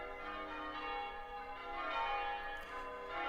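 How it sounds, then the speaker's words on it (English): Church bells ringing continuously, a rich layered peal of overlapping tones swelling and fading, heard alone without voices. "I should address the church bells. There's church bells."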